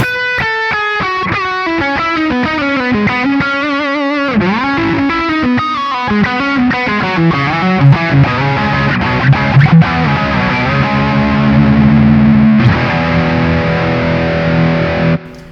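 Electric guitar played through distortion and effects, a loud sustained run of chords and sliding notes rings out alone, growing thicker toward the end before cutting off abruptly.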